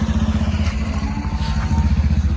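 A motorcycle engine runs close by at a steady idle, its low throbbing pulse repeating evenly and loud throughout.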